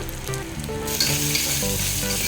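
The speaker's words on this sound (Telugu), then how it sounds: "ఇలా వేయించుకోవాలి." Pepper powder, biryani powder and garam masala frying in a pan for coconut rice: a continuous close sizzle that swells louder partway through, with faint tonal hum underneath and no voices.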